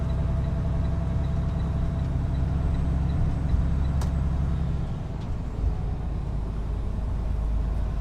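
A Showhauler motorcoach with a Detroit diesel engine cruises at about 50 mph at low RPM, producing a steady, loud low rumble and road drone heard from inside, with a brief dip near the end.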